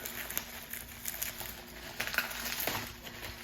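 Bubble wrap is pulled off a packaged smart window shade, giving soft, faint crinkling and rustling in irregular bursts close by.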